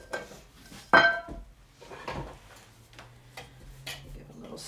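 Cream paint stirred in a can, heard as a few knocks and scraping clinks of the stirrer against the container, fairly close but soft, with some quiet background noise.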